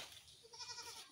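A goat bleats once or twice, faint and fairly distant, a short wavering cry in an otherwise quiet rural setting.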